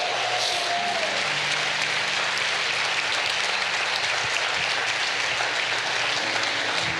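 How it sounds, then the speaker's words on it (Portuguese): A church congregation gives a sustained round of applause during a Sunday evening service, a dense, steady wash of many hands clapping that fills the room for several seconds, with no voices standing out. "Dá uma glória a Deus no seu lugar, uma salva de palmas, Senhor."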